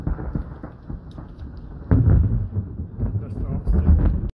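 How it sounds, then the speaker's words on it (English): A summer thunderstorm rumbles with heavy wind buffeting a deck where sunflower planters are shaking, a steady roar that swells louder midway with deep booming rumbles. "The storm's still there."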